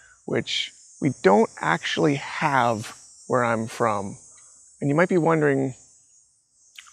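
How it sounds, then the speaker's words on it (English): A cicada keeps up a steady, thin, high buzz in the background while someone talks over it throughout; the drone stays faint and unbroken, even through pauses in his speech. "That one there, I believe, is a cicada"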